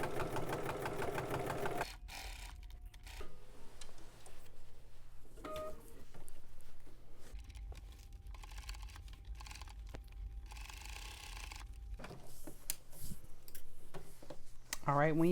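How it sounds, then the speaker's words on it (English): A home sewing machine fitted with a zipper foot runs over basted seams, whirring in several bursts with short pauses between them while a person talks throughout. "I'm going to be stitching over my existing basted stitches, and I switched over to my zipper foot"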